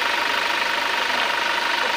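A Toyota Innova common rail diesel engine runs at a steady idle, a dense, even rumble with a faint rhythmic clatter, close and constant throughout.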